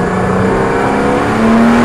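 A car pulling away as the clutch is released, the engine note climbing steadily as it accelerates, loud and close with a rising tone toward the end.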